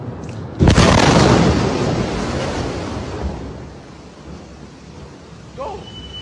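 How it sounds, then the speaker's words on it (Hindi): A single loud missile explosion booms close by and rolls off into a long, fading rumble over open air, with a faint high whine near the end. It comes from an Iranian missile falling on Tel Aviv. "लगातार ईरान की कई मिसाइलें तेल अवीव में गिर रही हैं।"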